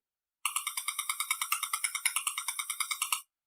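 Radio signal from a Wi-Fi base station converted to sound, a rapid regular train of buzzy electronic pulses, about eight per second, lasting nearly three seconds with silence before and after.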